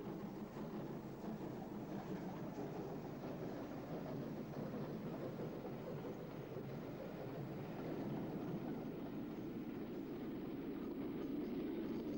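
A mixed train of paddock wagons ahead of a van and four coaches rolls past in 1962 UK. Its steady, faint, even rumble holds throughout, with no voices.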